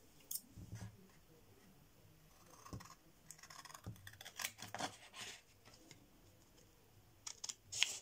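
Scissors cut out a paper staircase for an artist trading card, giving soft, irregular snips and paper rustles at close range, with a few sharper crisp cuts near the end.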